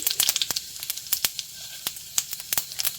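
Cumin seeds spluttering in smoking-hot mustard oil, a close, crisp sizzle broken by quick sharp pops and crackles in an irregular rhythm.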